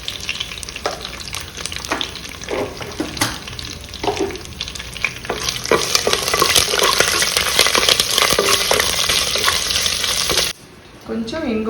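Fenugreek, mustard seeds and cumin sizzle in hot oil for a dry shrimp shell rasam, a steady hiss with scattered crackles, pops and spoon-stirring clinks that swells midway and drops off abruptly near the end.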